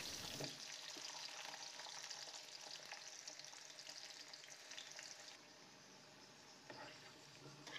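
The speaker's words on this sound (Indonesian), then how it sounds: "Kalau sudah panas, goreng kentang." Steady crackling sizzle of potatoes frying in hot oil, close up and continuous, softening slightly toward the end.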